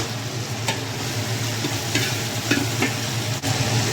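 Pre-fried tofu stirred and sizzling in a hot pan for a tofu, pork and kangkong oyster sauce dish: a steady frying hiss with several sharp scraping stirs, close and fairly loud, no voices.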